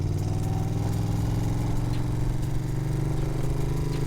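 A 1981 Moto Guzzi Le Mans Mark 2 motorcycle engine runs with a steady, throbbing, low rumble, close and continuous throughout, with no voices.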